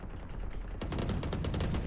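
Vandal rifle fire in Valorant, rapid sharp cracks in a quick burst that grows louder and denser partway through, with reverberant tails, sounding close and alone without any talk.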